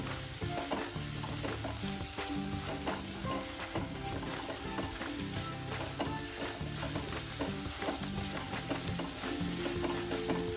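Egg bhurji sizzles steadily in a hot pan as a spatula stirs and scrapes through it, a dense continuous frying hiss with rapid clicks of utensil against metal, close up and with no voices.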